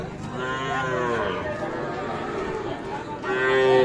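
Cattle lowing at the Ambari livestock market in Parbatipur, Dinajpur, with several drawn-out moos over a busy background of crowd chatter at the outdoor market.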